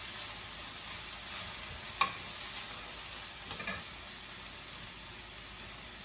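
Oil hisses softly in a pan as it sautés before spinach is added, with a couple of faint utensil taps against the pan over the steady low sizzle.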